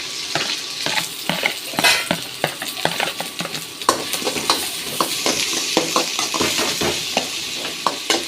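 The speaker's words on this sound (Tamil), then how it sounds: "நல்லா வதக்கிக்கிடணும்" About four sliced onions sautéing in hot oil for a chicken stuffed paratha, a close, continuous sizzle broken by frequent scraping and clicking of a spoon stirring the pan.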